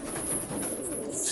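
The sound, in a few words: racing pigeons cooing in a loft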